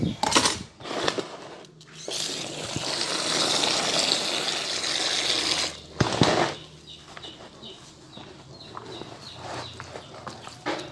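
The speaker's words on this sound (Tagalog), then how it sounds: "Lagyan natin tubig niyan" Water is poured into a bowl of homemade chicken feed, a sustained splashing pour in the middle, framed by clinks and handling noises before and after.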